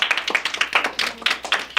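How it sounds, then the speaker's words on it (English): A small group at a school geography bee claps for a departing contestant, producing sharp, irregular, close-sounding claps in a short burst. "give her a round of applause"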